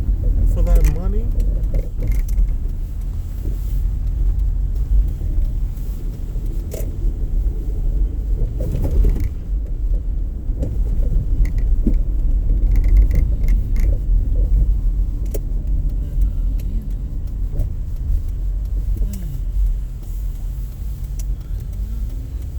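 Cars turn and drive through busy Harlem streets in New York City, a loud, steady low engine rumble heard from inside a moving car, with creaks and rattles, under ongoing talk.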